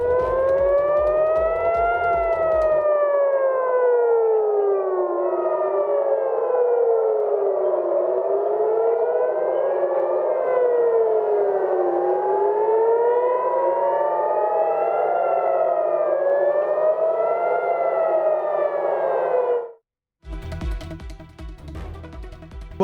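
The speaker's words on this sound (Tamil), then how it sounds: "தாக்குதல் காரணமாக டெல் அவிவ் நகரில் அபாய ஒலி சைரன்கள் முழங்கின." A loud wailing air raid siren in Tel Aviv rises and falls in long overlapping sweeps for about twenty seconds, then cuts off abruptly into other noise.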